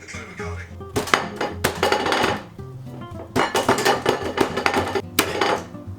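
A garlic clove is smashed on a kitchen surface, with several sharp knocks and clattering impacts in bursts, mixed with a voice talking nearby.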